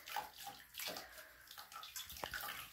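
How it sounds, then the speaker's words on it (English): Water from a cup splashes and trickles over a puppy in a bathtub during rinsing, a close, uneven wash of pouring and dripping with no talk. "And start rinsing your doggy."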